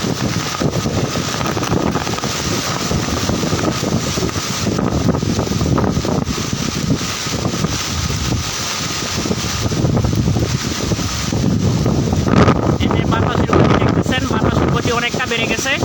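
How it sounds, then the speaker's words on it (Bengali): Strong wind and rain lash a flooded area on Hatiya island, roaring steadily and buffeting the microphone. A person talks over it throughout. "বাতাস আর বৃষ্টির গতি অনেকটা বেড়ে গেছে।"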